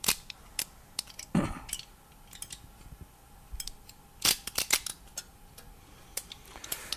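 Scissors snipping through stainless heat-treat foil wrapped around a heated part, sharp isolated metallic clicks and cuts spaced irregularly, close and fairly quiet against a faint background hum.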